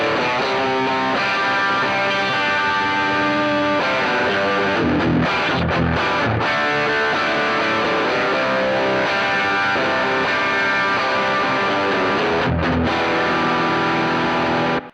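Electric guitar played through the distortion of a NUX Cerberus multi-effects pedal, a heavy high-gain preset: thick sustained chords and riffs, loud and continuous, with brief choked pauses and no talking.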